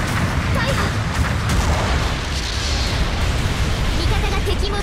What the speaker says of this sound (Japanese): 後方部隊から支援砲撃が来ます。